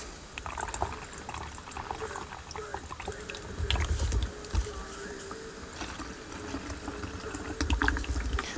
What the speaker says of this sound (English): we're going to fill the rest of the bottle with our distilled water and Flow-Aid mixture